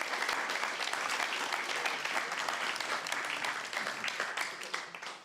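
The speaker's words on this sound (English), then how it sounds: "Let's give another round of applause for the graduating class of 1027." Sustained applause from a guide dog graduation audience celebrating the graduating class, dense steady clapping from many hands that fills the room and tapers slightly at the end.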